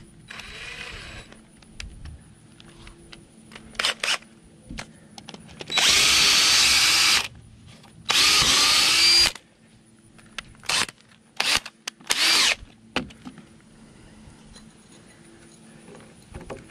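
A power drill with a long bit bores into large wood rafters during construction, two loud sustained drilling bursts of a few seconds each, plus shorter whirs and clunks in between, with no talk.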